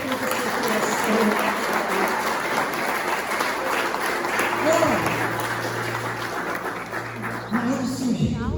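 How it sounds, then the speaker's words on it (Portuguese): A church congregation applauds in steady, sustained clapping that fills the room for several seconds. A preacher's voice carries over the clapping. "Aplauda o Senhor com todo o seu coração."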